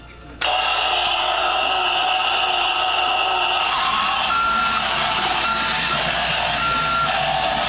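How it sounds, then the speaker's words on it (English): A Road Rippers Snake Bite monster truck toy emits a steady electronic hum, then a loud, repeating reversing beep pattern at close range. "I'll do backward."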